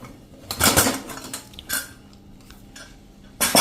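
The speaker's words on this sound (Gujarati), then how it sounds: "આ બાજુ આપણું કુકર પણ 4 વિસલ થઈને તૈયાર થઈ ગયું છે અને પ્રેશર પણ નીકળી ગયું છે। તો આપણે એને ખોલી લેશું" Metal clanks and rattles of a pressure cooker being opened after four whistles, its lid and utensils knocking in a few loud bursts separated by quieter kitchen handling.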